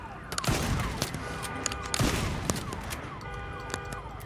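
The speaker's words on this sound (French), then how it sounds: "Le fusil à pompe, il est vraiment pratique." Shotgun blasts from the video game Days Gone, two sharp booming shots about a second and a half apart over continuous game gunfire and ambience, loud and close.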